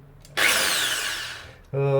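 An electric drill fitted with a polishing attachment via an adapter whirs loudly for over a second, its high whine sliding slightly downward, then stops as a voice begins.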